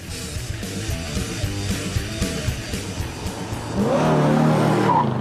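An Audi S3 engine revs hard and accelerates in rapid pulses, then holds a loud, steady high-pitched drone, with a faint tire squeal.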